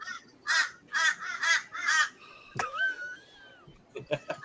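Four loud, evenly spaced caws ring out close by, followed by a long, wavering bird call and a few scattered clicks.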